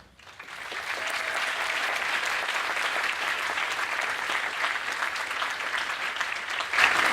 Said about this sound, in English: can we just have one more round of applause for this year's inductees?